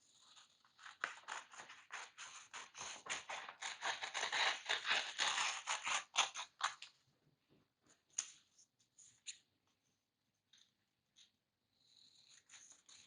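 Scissors snip through paper to shape strips for a paper bead necklace, a rapid run of close, crisp cuts that builds over several seconds, then stops, leaving a few sparse snips and light handling sounds.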